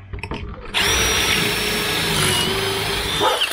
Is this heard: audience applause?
no